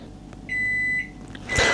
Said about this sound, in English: Okay, microwave, I'm coming.